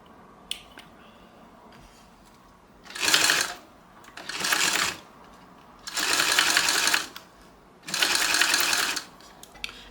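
A domestic sewing machine stitches a strap in four loud bursts of rapid whirring, each lasting a second or two and separated by quiet pauses with small clicks and handling sounds.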